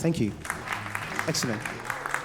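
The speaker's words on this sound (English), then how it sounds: "Give yourself another round of applause, please." An audience at a live debate show gives a brief round of scattered clapping that fades as someone speaks over it.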